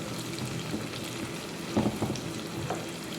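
Chicken hotdogs frying in a pan, a soft steady sizzle with a few brief stirring scrapes and clatters near the middle, close and fairly quiet, no voices.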